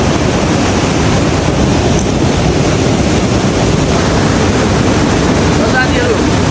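Kolung waterfall in Miklajung, eastern Nepal, gives a steady, full-bodied roar of falling water that holds constant throughout, close and loud with no pauses.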